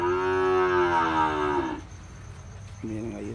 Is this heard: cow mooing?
yes